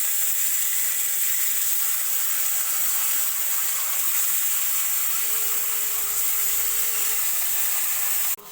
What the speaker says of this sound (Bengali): এবার কড়াইতে তেল দিয়ে তেল গরম হলে মাছগুলোকে ভেজে নেব।